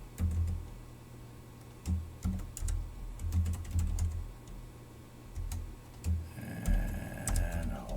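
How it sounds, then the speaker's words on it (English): Someone typing code on a computer keyboard: uneven clusters of close, crisp key clicks with brief pauses between bursts, a faster flurry near the end, and no talking. "let me correct my typing"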